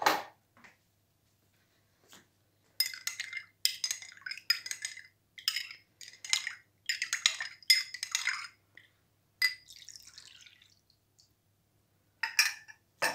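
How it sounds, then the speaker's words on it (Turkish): A metal spoon stirs water and grape molasses in a glass, giving repeated close, bright clinks against the glass in irregular bursts with short pauses between. "Hatta şöyle bir tane kaşık getirip karıştıracağım."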